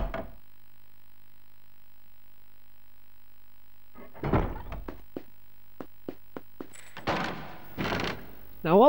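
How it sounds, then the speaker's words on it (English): Door opening in the PS2 game Harry Potter and the Philosopher's Stone: a swell of creaking movement, then a run of sharp, evenly spaced clicks and thuds, followed by a few louder bursts near the end. "Right, so open this door."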